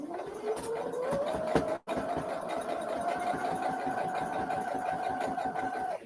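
Sewing machine stitching steadily, a continuous whirring motor hum with rapid needle ticking, running close and alone with one brief stop and restart near the start.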